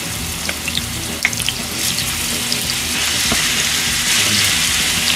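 Ground meat for omurice frying in a pan, a steady close hiss of sizzling with faint clicks and scrapes, no voices.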